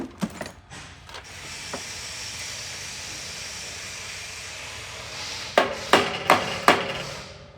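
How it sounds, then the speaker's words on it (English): A screwdriver is hammered into the slot of a pinch clamp to spread it, heard as a few sharp metallic strikes at the start, a steady hiss, then four louder rhythmic hammer blows close by. "I'm gonna hit my screwdriver into that slot, and that'll expand it"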